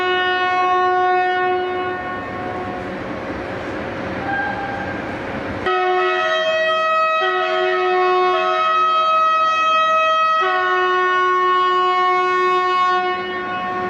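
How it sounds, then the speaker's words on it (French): French RTG gas-turbine turbotrain pulling into Lyon-Perrache station under the large canopy, its horn sounding in long sustained blasts over the low rumble of the train, loud and close with no talking. "toute sirène hurlante, le turbotrain se présente sous la vaste marquise, comme chaque jour."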